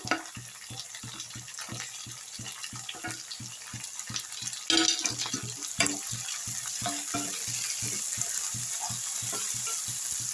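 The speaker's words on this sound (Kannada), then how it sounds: "ಟೊಮೆಟೊ ಮತ್ತು ಈರುಳ್ಳಿ ಹಸಿಮೆಣಸಿನ್ಕಾಯಿ ಎಲ್ಲ ಚೆನ್ನಾಗಿ ಫ್ರೈ ಆಗಿದೆ" Tomato, onion and green chilies frying in a pan, a sizzling hiss over fast rhythmic spatula taps and scrapes, close, with a brief louder burst midway.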